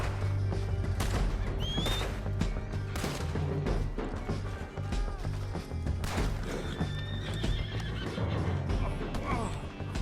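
A horse in Red Dead Redemption 2 whinnies and hooves clatter as it runs off, mixed with distant gunshots and a busy game soundscape, fairly loud and dense.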